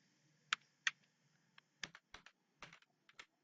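Someone typing on a computer keyboard while renaming a sheet in Excel, a scatter of crisp, close key clicks in small irregular bursts against a quiet background.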